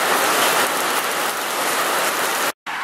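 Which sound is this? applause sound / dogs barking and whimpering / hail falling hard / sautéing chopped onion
hail falling hard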